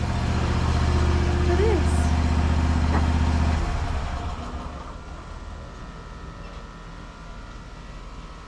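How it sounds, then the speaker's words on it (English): A strong lawn mower engine idles close by with a loud, steady drone, then drops to a quieter rumble halfway through while a person speaks briefly. "Now that's just one strong mower right there. I just pulled it idling."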